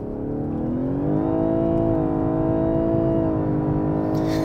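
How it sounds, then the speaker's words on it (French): A Lexus LS500h hybrid with a V6 engine accelerates, its engine note rising steadily and holding strong and close for several seconds, with a smooth continuous drone throughout. "Et la voiture avance plutôt bien."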